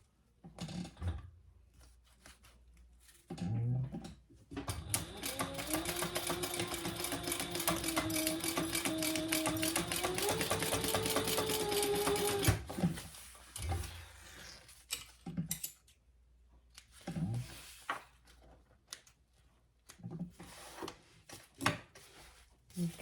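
Sewing machine running a long continuous seam on a hot pink waist pack, a steady mechanical whir with shifting pitch for several seconds, framed by quieter handling noises before and after.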